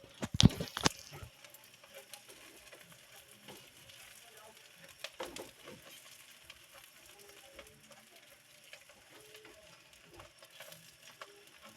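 Onion and ginger sautéing in a pan for a mung bean and tofu dish, a steady low sizzle with a few sharp clatters of utensil stirring at the start and again midway, close and moderately quiet.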